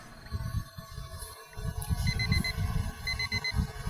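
An alarm clock ringing in a Roblox horror game, with repeated short electronic beep bursts over a low rumbling game background, fairly clear and with no talking.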